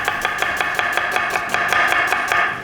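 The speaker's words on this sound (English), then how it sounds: "I'm gonna start cutting up all my aromatics, all right?" A knife chopping red onion on a board, a fast even run of crisp close chops, about five per second, with no voices.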